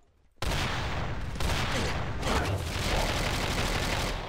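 After a brief quiet moment, loud continuous gunfire erupts and keeps going, heavy overlapping shots that sound like fire coming from both sides in a close, chaotic exchange.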